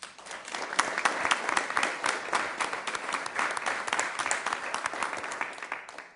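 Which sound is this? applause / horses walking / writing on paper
applause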